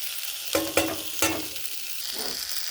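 Ground turmeric, cumin, coriander and chilli powders frying in a pan for a cauliflower and koi fish curry, with three sharp spatula strikes over a steady sizzle and a hissing burst near the end.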